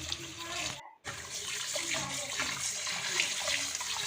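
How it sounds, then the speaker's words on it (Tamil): Rice swished and rinsed by hand in water for idli and dosa batter, a continuous close splashing and sloshing with a brief break near the start. "அரிசியை நல்லா வாஷ் பண்ணி எடுத்துக்கோங்க"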